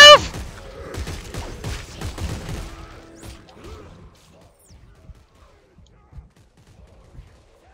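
Rapid bursts of gunfire from the Dead Space 3 video game, loud and dense at first, then thinning into scattered shots and thuds as the action fades.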